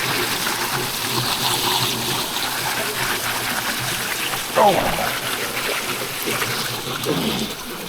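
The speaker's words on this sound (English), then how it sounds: "Got algae on it because this waterfall runs around the clock." A waterfall runs over algae-covered rocks, a steady loud close rush of water with a brief splash partway through, as someone talks over it.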